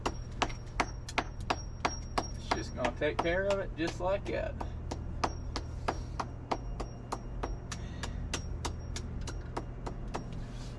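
A hammer chips hardened leveling grout off a high spot, sharp regular taps repeating steadily throughout, with someone talking over the middle of the blows.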